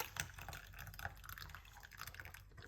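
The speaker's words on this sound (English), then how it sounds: "Just pour it off naturally like this." Garlic and lemon tea being poured off into a container, a faint, continuous liquid trickle with small splashy drips against a soft background hiss.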